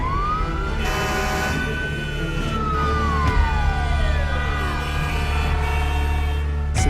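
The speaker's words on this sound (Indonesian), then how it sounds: "Supir menyalakan klakson selama perjalanan agar semua orang dan kemacetan minggir di jalurnya." A fire truck siren wails continuously on the move, its pitch rising and falling in long sweeps over steady road rumble, with short horn toots as it pushes through traffic.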